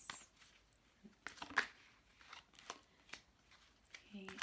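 Tarot cards being shuffled by hand, soft quiet riffling and flicking taps repeating irregularly at close range.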